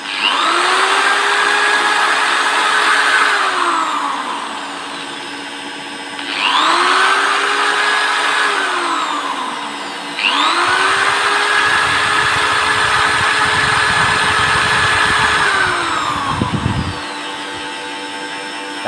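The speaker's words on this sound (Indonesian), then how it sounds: "Ini blender menyala. Coba kita tambahkan dengan bor." A loud blender motor whirs, spins down and revs up again in cycles, joined by a rough, rattling electric drill running alongside it from a homemade inverter before both cut out.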